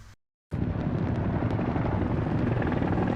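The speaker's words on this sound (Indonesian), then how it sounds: "anak buah Zayev, mereka tidak henti-hentinya menembaki helikopter tersebut dengan RPG" A helicopter in a war film scene comes in after a brief silence, its rotor and engine roaring loudly and steadily, close and constant, with no voices over it.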